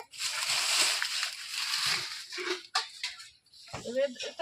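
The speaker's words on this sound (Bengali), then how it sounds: "এখন জল দিয়ে একটু লবণ দেবো তাহলে ডিমটা ভালো ফোলা যায়" Water sloshing and splashing into a cooking pot being readied to boil eggs for an egg curry, a broad wet rush that fades and breaks into brief splashes, with voices talking over it.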